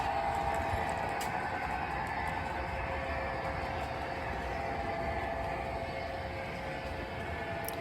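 A model train runs steadily along its layout track with a continuous rumbling whir and a faint high whine, no voices.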